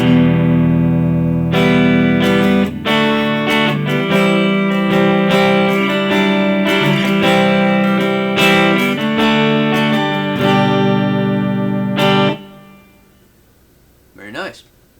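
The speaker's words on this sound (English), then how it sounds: "Now I'm going to start with one of the Boss amp models. This is the Boutique amp." An electric guitar played through a BOSS GT-1000 CORE Boutique amp model with light reverb rings out in strummed chords and sustained notes, loud and clean-to-crunchy, then stops, leaving a brief reverb tail and a short voice.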